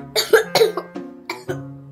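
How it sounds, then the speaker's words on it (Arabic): Girl with a cold and fever coughing several times in short, sharp bursts, loud and close, with no talk over it. "وكمان بكح"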